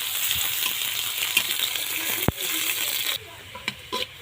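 Onions frying in oil in a wok set on a clay stove, a steady hiss with a few sharp clinks and scrapes, one loud knock near the middle, close by.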